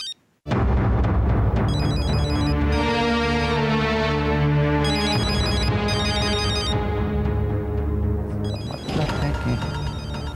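A mobile phone ringtone plays loudly and continuously for about ten seconds in a TV drama, a repeating electronic melody with bright, chiming accents and no talk over it.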